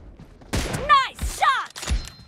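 Several quick gunshots ring out in the mobile shooter BGMI, loud sharp cracks in close succession, each trailed by a brief ringing tail.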